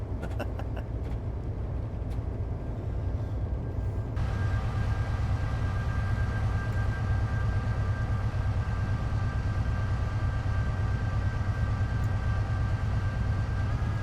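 A Class 70 locomotive hauling tanker wagons in a train simulator game, a continuous low rumble of the diesel and rolling stock with a steady whining tone that swells in partway through and holds to the end.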